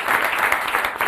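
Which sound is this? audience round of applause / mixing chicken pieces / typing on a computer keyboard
audience round of applause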